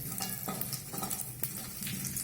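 Red chilli sizzles and crackles in hot oil in a pan, a steady close frying hiss with irregular pops and occasional stirring scrapes.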